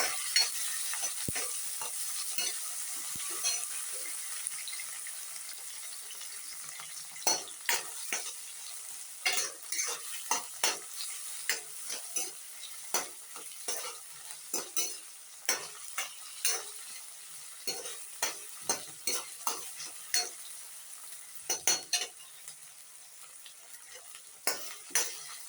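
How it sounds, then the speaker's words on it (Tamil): Steady sizzling of ginger garlic paste and chopped green chilies in a hot pan, broken by repeated scraping and stirring clatters of a utensil against metal, with no one speaking. "இது இஞ்சி பூண்டு பேஸ்ட்டு, நறுக்கி வச்ச பச்சை மிளகா, இதெல்லாம் நல்லா வதக்கிக்கிறேன்"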